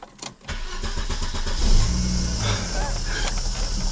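Iveco Daily van with a damaged engine: a couple of quiet knocks, then the engine catches and revs up to a loud, rough roar before settling into a steady, uneven idle, close by.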